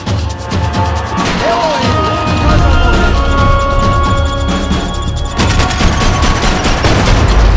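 Gunfire and explosive crashes from a Max Payne 3 video game firefight ring out loud and dense throughout, with a sustained wash of blasts and shots that thickens toward the end.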